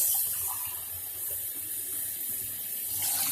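Hot tap water pouring steadily from a kitchen faucet into a sink in Flint, a continuous close hiss and splash that swells briefly near the end.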